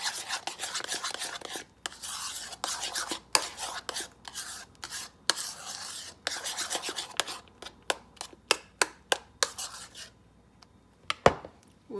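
A spoon works cream cheese and minced garlic around a bowl, giving rapid scraping and rubbing strokes that go on steadily, then thin into separate taps and a final knock.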